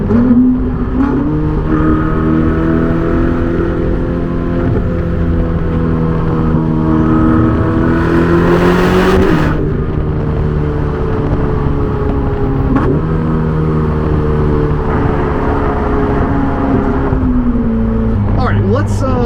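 A Ferrari 488 GTB's engine pulls loud and close with rising and falling harmonic tones through several gear changes, with a brief sharp burst near the middle.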